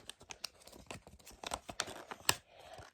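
A packet of Lay's cheese chips being torn open, a run of close crinkly rips and crackles of the foil bag with one sharp tear near the end.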